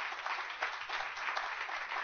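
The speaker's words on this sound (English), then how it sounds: "Clap your hands for the Lord." A church congregation claps their hands for the Lord during a sermon on marriage, a dense steady burst of applause filling the hall, moderately loud and unbroken, with no one speaking over it.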